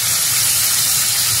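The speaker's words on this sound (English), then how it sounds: "but you can still hear it sizzling" Lamb chops sizzle in a hot cast iron pan, a loud, steady, close hiss that continues unbroken with no voices.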